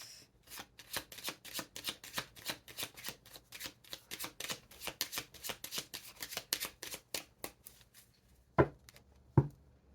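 A deck of oracle cards being shuffled close up, a quick regular riffle of crisp card slaps lasting several seconds, then two sharper single snaps as cards drop out.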